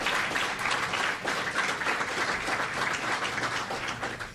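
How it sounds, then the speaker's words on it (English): A large crowd of service members and guests in Hawaii bursts into sustained applause, a thick wash of clapping that holds strong and steady throughout. "Give yourselves another round of applause."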